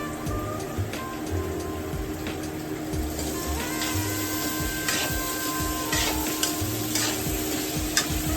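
Onions frying in a pan for sabudana khichdi, a continuous close sizzle with frequent scraping strokes of a spatula and a faint high whine in the background.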